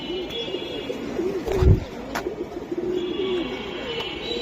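Pigeons at a market stall give soft, rolling coos that repeat in a low, close warble, with a brief thump partway through and almost no talking.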